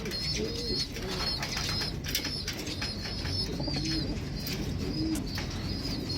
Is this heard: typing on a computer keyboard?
no